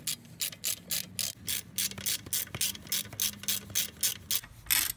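Ratchet wrench working on an Audi TT front brake caliper, a close rapid series of clicking strokes in a steady rhythm, around a dozen quick ratcheting bursts with no talk.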